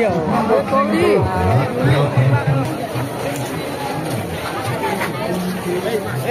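A dense crowd at the Keonjhar Rath Yatra festival, with steady chatter and babble all around, close and fairly loud.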